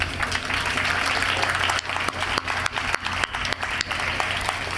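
An audience at an organisation's annual meeting applauds its board of directors, a steady wash of many hands clapping at moderate volume for a few seconds.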